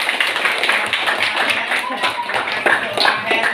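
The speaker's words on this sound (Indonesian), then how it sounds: "mari kita berikan tepuk tangan" Applause from a classroom group, a dense patter of many hands clapping steadily for a few seconds at close range.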